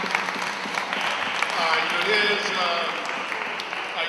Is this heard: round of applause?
yes